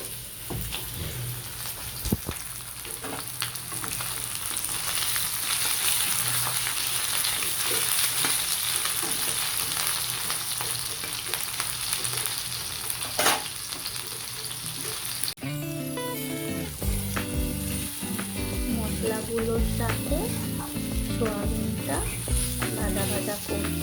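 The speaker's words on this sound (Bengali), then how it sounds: "মশলা ভাজছি" Spices sizzle in hot oil for a soybean khichdi, a dense steady frying hiss for about fifteen seconds before rhythmic music takes over and buries it.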